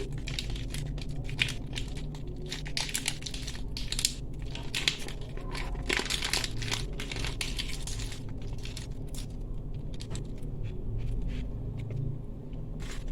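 A second bag of Bril detergent powder being emptied, with continuous close gritty crinkling and crunching of the powder and bag, steady and fairly loud, no talk.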